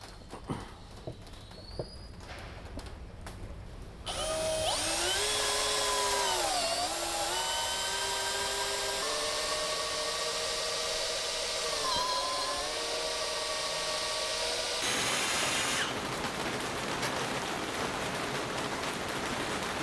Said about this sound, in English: So this is 22 mm dia spade bit, and let's drill in the plywood and see what happens.